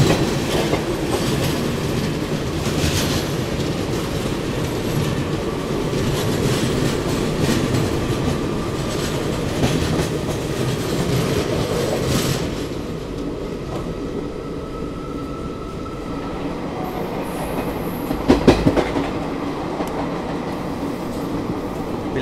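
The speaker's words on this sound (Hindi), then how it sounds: "एक हमारी आज़ादी और दूसरी हमें क्रॉस कर रही है अभी दुरंतो एक्सप्रेस" Indian Railways Azad Hind Express running near Bilaspur while the Duronto Express passes on the adjacent line, a loud steady rolling rumble with rhythmic clickety-clack that thins out midway, followed by a brief clanking burst near the end.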